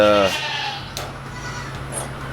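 A goat on a farm lets out one brief, close bleat at the very start, followed by quiet outdoor ambience with a faint steady hum.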